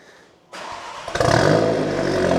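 A VW Golf Mk8 GTI with a downpipe and stock exhaust, OPF/GPF deleted, cranks and fires abruptly, then flares into a loud, close rev and settles into a steady, strong idle.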